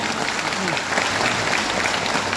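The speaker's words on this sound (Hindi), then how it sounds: "तालियां।" Audience applause following a heartfelt song at a live performance, a steady dense wash of clapping filling the whole stretch at even loudness with no break.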